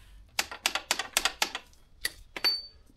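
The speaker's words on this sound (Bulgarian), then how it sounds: "Трещотката малко." A ratchet wrench working on a Honda CRF1000 Africa Twin motorcycle during servicing, giving a quick run of sharp, close clicks in rapid bursts followed by a couple of slower clicks.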